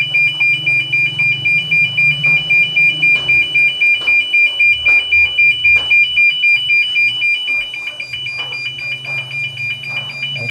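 A repaired fire alarm panel's bell ringing during a sound check, loud and near, with a fast steady pulsing clang that continues unbroken and turns rougher toward the end.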